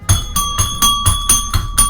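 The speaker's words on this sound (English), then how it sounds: "Then you put your lights and your siren on and it's got that two-tone I've got two-tone bells" Two-tone police siren bells from a cop simulator game ring in a fast, steady rhythm, with about eight loud, evenly spaced metallic strikes over a sustained tone and no talking.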